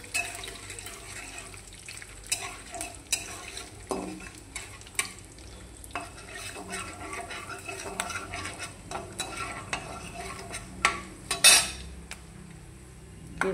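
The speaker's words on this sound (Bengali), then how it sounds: "এই যে দেখো, বাদামটাকে ভেজে দেবো," Peanuts fry in hot oil with five-spice, bay leaf and dried red chilli while a utensil scrapes and stirs the pan, giving a steady soft sizzle broken by sharp clinks and knocks of metal against metal.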